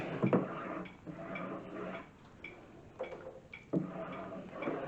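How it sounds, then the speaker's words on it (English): A spoon stirs garlic into thick homemade tomato sauce in a pot, making repeated scraping and knocking strokes with soft squelches at a slow, uneven rhythm, close by. "I'm going to mix it again really well. Stir it, stir it, stir it."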